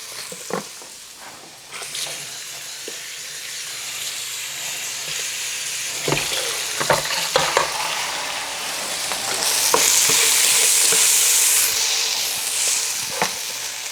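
Sugar being stirred in a pot on the stove to dissolve it, with soft scraping strokes and a few sharp clinks against the pan over a steady hiss, rising to louder steam toward the end.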